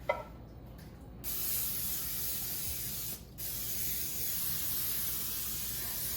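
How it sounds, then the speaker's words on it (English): Cooking spray greasing a baking pan: a short hiss, then a long steady spray lasting several seconds, a brief pause, and the spray resuming, close and alone. "is grease my pan"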